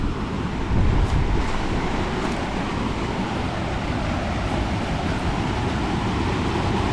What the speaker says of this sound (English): Is that a pretty little waterfall?